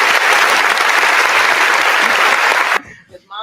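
Enthusiastic applause for a guest's mother bursts out loud and close for nearly three seconds, then cuts off abruptly as a voice starts talking.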